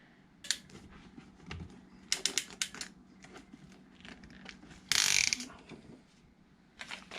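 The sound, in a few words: clamping PEX pipe with clamp tool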